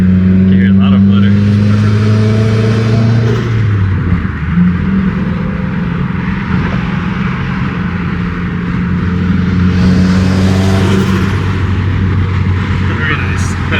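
Subaru WRX turbo engine fitted with a COBB charge pipe, Grimmspeed turbo inlet and Boomba blow-off part, revving loudly with steady droning tones and rising and falling pitch; people talk over the engine.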